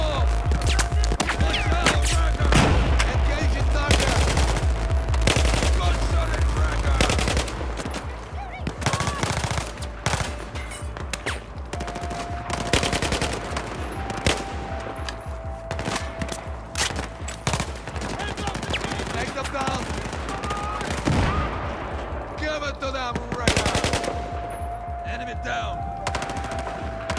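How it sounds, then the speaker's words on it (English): Sustained machine gun fire in a Battlefield 4 battle on a mountain map, dense rapid bursts and rattling volleys going on almost nonstop, loud and close, with scattered shouting voices in the mix. "Gunshot"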